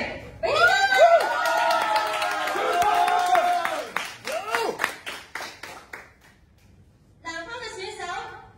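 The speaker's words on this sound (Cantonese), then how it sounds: "俾啲掌聲" A crowd at an octagon-cage kickboxing star fight night claps for the red-corner challenger, fighter Chuan Chuan. Scattered clapping rises amid loud, wavering tonal cheering and an announcer's voice, then fades before a brief burst of noise.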